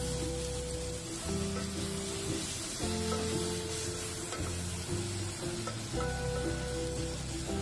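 Pieces of fried fish sizzle steadily as they are stirred through spices in a hot pan, a continuous close crackle with low scraping pulses as the mixture is turned, no voices.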